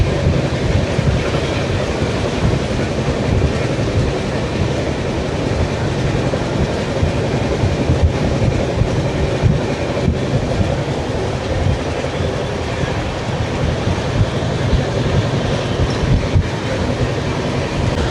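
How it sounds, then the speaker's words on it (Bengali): A long freight train rumbles by close at hand, wheels clattering rhythmically over the rails in a loud, unbroken roar with occasional metallic squeals. "ওই দিদি দিয়ে একটা মাল ট্রেনও যাচ্ছে"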